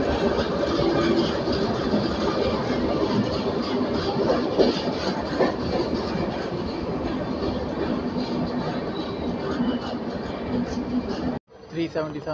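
Shatabdi Express train no 12025 on the Pune to Secunderabad run, heard as a steady, loud rumble of rolling coaches with a faint clickety-clack rhythm. Speech sits underneath, and the sound cuts off abruptly near the end.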